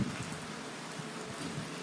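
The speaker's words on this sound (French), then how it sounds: "Oh, puis en plus, il pleut." Rain falls outdoors as a steady, faint, even hiss of drops on surfaces, without voices.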